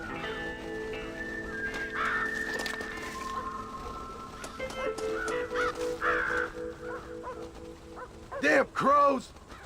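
Crows caw in a video game, a few rough calls scattered over background tones and game sounds, with a louder burst of cawing near the end.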